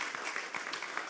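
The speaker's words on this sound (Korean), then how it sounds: "하나님께 영광의 박수 올리겠습니다." A church congregation at a Friday evening service claps in a dense, steady burst of applause, heard alone without speech.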